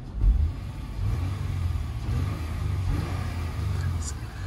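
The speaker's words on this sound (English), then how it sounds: "Before that, I'll give you a few revs." A 2008 Acura TL with a 3.2-liter J32 V6 engine revved a few times, the deep engine rumble swelling and settling in a couple of pulses, close by.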